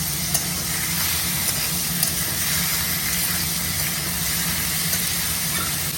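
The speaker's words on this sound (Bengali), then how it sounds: "চিকেনটা একটু ভালো করে ভেজে নিই" Chicken fries in a pan with a steady, even sizzle and a few light stirring clicks, no voices.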